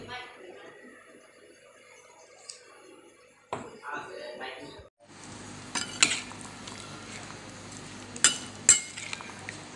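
Chickpea salad with chaat masala and mustard oil being mixed in a bowl: a run of scraping and clinking with a few sharp metallic knocks of a spoon, moderately close, following a quiet stretch.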